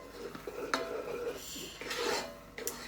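A spoon scrapes and rubs through risotto in a Dutch oven, a close, soft stirring with intermittent clinks against the pot.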